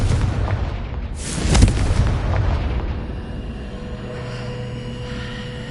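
The Confringo blasting spell from Hogwarts Legacy goes off as a single booming explosion, with a heavy impact about a second and a half in, a sustained roar after it, and a low rumbling tail that settles into a steady hum.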